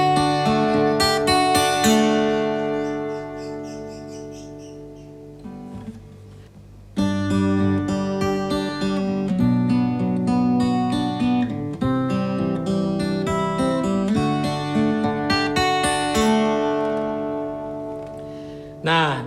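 Acoustic guitar fingerpicking of a song, played at a quicker tempo as a steady run of plucked notes and ringing chords, close and clear with no talking, briefly thinning midway before resuming.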